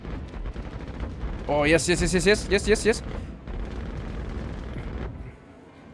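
A Ballistic Gatling AD5B in Star Citizen fires a loud, rapid, evenly pulsed burst of about a second and a half, then stops. Someone speaks briefly and game sounds continue around it.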